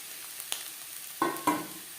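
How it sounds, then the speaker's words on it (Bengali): Egg bhujia being stirred into potatoes in a frying pan over a high gas flame gives a soft steady sizzle, with a few sharp scraping stirs near the end. "ডিমের ভুজিয়া আলুর সাথে বেশ ভালো করে মিক্স করে দেব।"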